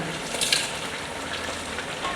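Garlic and ginger paste sizzles steadily in a pot of cooking meat for aloo gosht, a continuous close hiss and crackle of frying.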